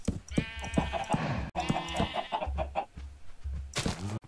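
Chickens cluck steadily in the Minecraft video game, mixed with bleating sheep, a close and busy run of short animal calls.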